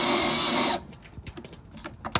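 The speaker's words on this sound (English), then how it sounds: "with the drill" A power drill loosening parts on a Maytag Bravos washer during a bearing replacement runs in a loud, steady whir for under a second, then cuts off. Faint clicks and handling noises follow.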